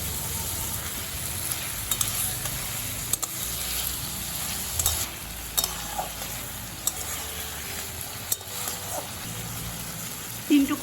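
Potatoes and ridge gourd sauté in a pan for a poschto-style chorchori, giving a steady low sizzle with occasional stirring scrapes and clinks throughout.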